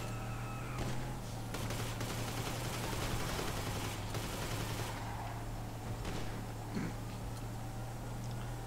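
Big guns fire in GTA as dense, rapid bursts of machine-gun shots, rattling repeatedly over a steady low engine hum at a fairly quiet level.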